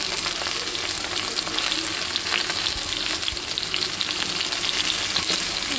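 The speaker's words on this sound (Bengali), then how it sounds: "ভেজে দেবো" Sliced ridge gourd seasoned with salt and turmeric fries in a pan, giving off a continuous close sizzle and crackle with occasional stirring scrapes, no voices over it.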